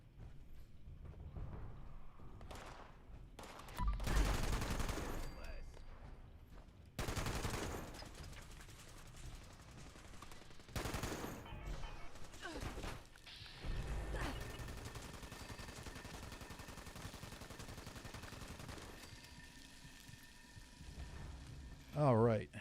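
Heavy weapon fire in Fallout 76, repeated loud automatic bursts and rattling volleys spread across the clip, with someone talking over and between the shots.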